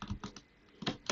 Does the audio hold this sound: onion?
no